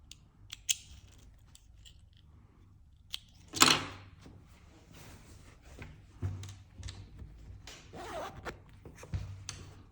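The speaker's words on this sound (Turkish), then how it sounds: "Şimdi son fermuarı kapatıp bitmiş halinde göstermek istiyorum." A hidden zipper is pulled shut on a sewn belted garment, giving a quick close rasp with scattered fabric rustles and handling clicks before and after, with no talk.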